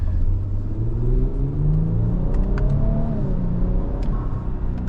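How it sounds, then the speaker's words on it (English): A 2026 Infiniti QX80 luxury SUV cruising at 45 mph, its engine a soft, steady hum under continuous road and cabin rumble, with a gentle rising note partway through and no voices. "You can hear the engine a little bit, but you know, it kind of has that nice sound to it"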